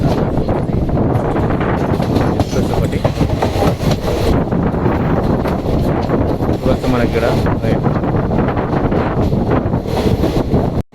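A passenger train runs on toward Trivandrum Central railway station, its loud continuous rumble and clatter heard from on board along with heavy wind buffeting and a voice speaking through the noise.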